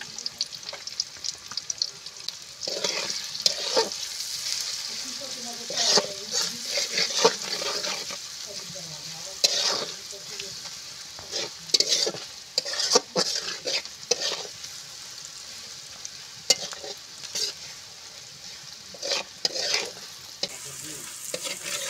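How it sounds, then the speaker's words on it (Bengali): Onions frying in a pan with salt, turmeric and chilli, stirred repeatedly: a continuous hiss of oil broken by frequent scraping, clattering stir strokes, close and fairly loud, with no one talking. "পেঁয়াজ কষানো হয়ে গেছে"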